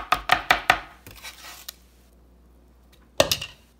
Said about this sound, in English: Here you go, chopped up basils.